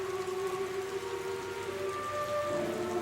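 Rain falls steadily in a relaxing Halloween movie-night ambience, a constant wash of patter with faint tonal hums running underneath and no voices.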